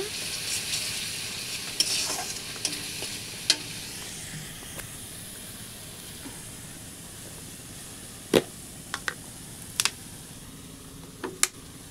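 Spice paste with chilli powder fries in oil, giving a steady faint sizzle throughout, broken by a few sharp clicks and taps of a utensil against the pan.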